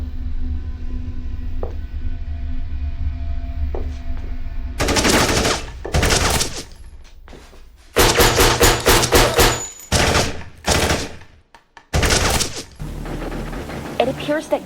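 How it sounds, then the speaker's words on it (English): Loud bursts of rapid gunfire rip out in several volleys separated by short pauses, following a quieter stretch of low background noise. "It appears that gunshots have just been fired"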